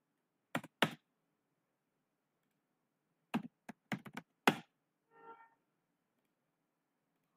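Someone types on a computer keyboard in short, separate bursts of clicking keystrokes, close and crisp against near silence, with a brief softer rattle after the last burst.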